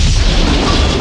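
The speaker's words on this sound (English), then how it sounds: "Wait for the obnoxiously loud explosion sound." A loud explosion from the Command & Conquer strategy game, a dense rumbling boom that fills the short moment with sustained low crashing noise and no talk.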